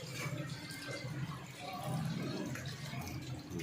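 Rice being rinsed in water for cooking in a home kitchen, a steady close sloshing and trickling of water over grains throughout, with no talk.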